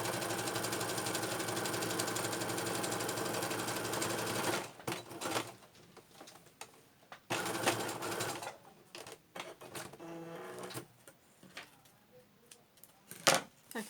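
A sewing machine stitches rucksack straps in a long, steady, rapid run of needle strokes for about five seconds, then shorter bursts of stitching broken by pauses, handling and fabric shuffling.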